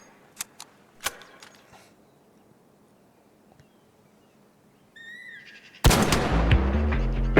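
An Anvil gun fitted with the baseline barrel fires in Arc Raiders: two sharp, separate shots ring out early, then a quiet stretch, and a louder, sustained burst of noise cuts in near the end.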